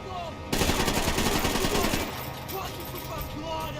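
Gunfire in the video game Max Payne 3: a rapid burst of close, loud automatic shots for about a second and a half, then a quieter tail of echoes and background noise.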